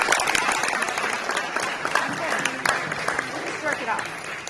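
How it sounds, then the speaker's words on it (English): Audience applause at a high school signing day ceremony, a steady crowd of clapping heard close throughout, with voices mixed in. "one more round of applause"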